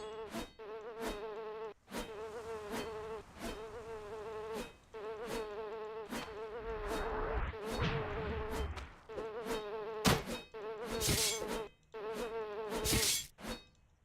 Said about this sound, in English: Oh, it's a bee.